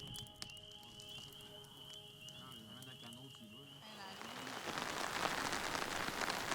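Rain falling during a fishing trip in Quebec, a steady patter that builds into a louder, denser downpour hiss over the second half, with a faint whistling tone and some quiet voices in the background early on.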